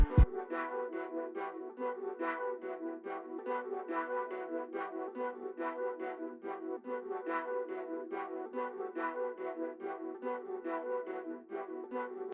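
Layered Nexus synth sound with the Orb and Pro Q effects switched off, a rapidly pulsing stuttered chord pattern repeating evenly, fairly quiet and alone after a short click at the start.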